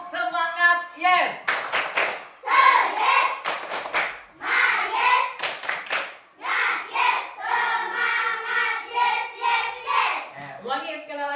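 Children clap in a rhythmic spirit cheer (tepuk semangat) in a classroom, bursts of hand claps in patterned groups mixed with their chanting voices, fairly loud and close.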